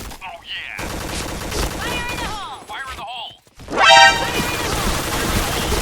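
Rapid bursts of gunfire from the Pink Dragon special gun in the shooter game Point Blank, loud and sustained with game sound effects and a short gap of quiet partway through.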